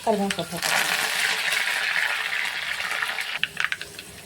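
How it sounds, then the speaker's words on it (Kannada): Garlic, mustard seeds and cumin tempering in hot oil for sambar, a steady loud sizzle throughout with brief crackles and pops near the end. "ಇದಕ್ಕೆ ಬೆಳ್ಳುಳ್ಳಿ ಹಾಕೊಳಕತ್ತೀನಿ ಸಾಸಿವೆ ಮತ್ತು ಜೀರಿಗೆ"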